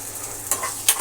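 Aloo potato curry simmering in a pan, with a steady soft sizzle and bubbling plus two brief stirring scrapes near the end. No voices.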